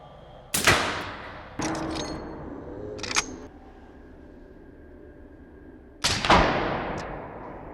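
Suppressed supersonic rifle shots from a Yankee Hill Machine suppressor, firing 6.5 and 7.62x51 match-grade rounds from an M11LR rifle outdoors: two sharp, loud reports a few seconds apart with fainter mechanical clacks between.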